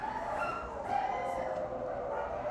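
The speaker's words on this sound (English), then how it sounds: "Dogs are just going crazy at it today, aren't they?" Dogs barking and yipping in the background, a steady, somewhat distant and muffled stretch of barks running through the whole moment without a voice.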